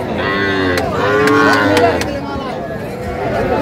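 Young bull calves low repeatedly at a busy cattle market in Faridpur, loud close moos overlapping each other above faint crowd chatter in the background.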